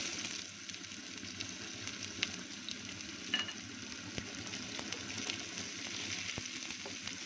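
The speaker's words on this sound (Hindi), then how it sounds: "ऑयल हमारा गर्म हो चुका है। ये प्याज हम इसमें डालेंगे।" Onion frying in hot oil for aloo paratha filling, a quiet continuous sizzle with a few faint ticks and stirring scrapes, heard alone.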